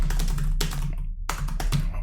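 A short flurry of clicks from a computer keyboard typed at a desk, two quick bursts of keystrokes over a low steady hum.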